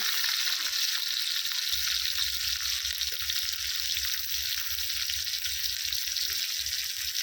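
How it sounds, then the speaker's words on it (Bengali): Tomatoes and green chillies frying in a pan for a cheese pasta, a loud continuous close sizzle with a low steady hiss throughout and no talk. "দিয়ে সব কিছু আবার খুব ভালো করে ভেজে নেব"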